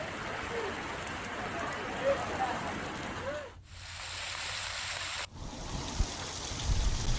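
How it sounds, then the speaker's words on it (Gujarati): Heavy rain in Diu district makes a steady, moderately loud hiss. It cuts out briefly partway through, then resumes, with a few low thuds near the end. "દીવ જિલ્લામાં કડાકા ભડાકા સાથે વરસાદનું આગમન થયું છે"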